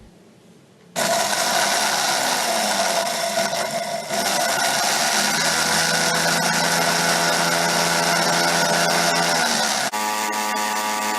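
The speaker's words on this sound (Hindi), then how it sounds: "यहाँ हमने मसाले को जो है ग्राइंड कर लिया है, बारीकी से पीस लें।" An electric grinder whirs loudly as it grinds flame-roasted spices for chutney, starting abruptly after a quiet second and running steadily, with a brief dip near four seconds and a shift in pitch near the end.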